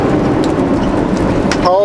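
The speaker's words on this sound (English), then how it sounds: "It's raining pretty hard" Heavy rain pours down steadily behind a building near a fuel card-lock stop, a loud, unbroken hiss that fills the whole moment, with a brief voice just audible at the end.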